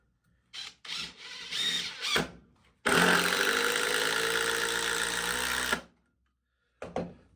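A Dewalt DCF850 brushless impact driver sinks a screw into very hard wood, starting with a few short bursts and then one long, loud, rattling impacting run of about three seconds before it stops, followed by a brief last blip.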